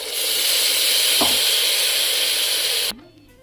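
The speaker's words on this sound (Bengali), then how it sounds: "এবার আমি জল দিয়ে দিচ্ছি।" Spiced chana dal sizzles loudly and steadily in a hot pot, then water pours in and the frying noise abruptly collapses into a low, muted bubbling.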